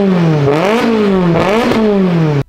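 A supercar engine revs hard in a series of loud, rising and falling blips, the pitch climbing and dropping about three times before cutting off abruptly, with no talk over it.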